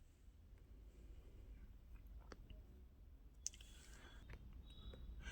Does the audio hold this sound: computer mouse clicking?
yes